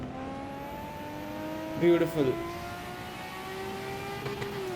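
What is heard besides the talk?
Nissan Skyline R34 GT-R engine downshifting on Nordschleife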